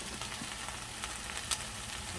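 Eggplant and tomato sizzle and fry in a pan with salt, a steady close crackling hiss with a faint clink partway through.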